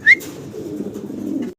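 Fancy pigeons coo in a low, soft, continuous rumble close by, opened by one sharp high chirp.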